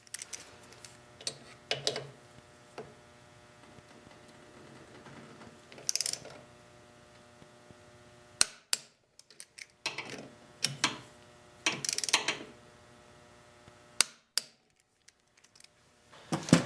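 Brake caliper bolts on a 2008 Harley-Davidson being tightened by hand, with bursts of ratchet clicking separated by quiet gaps, close and clear.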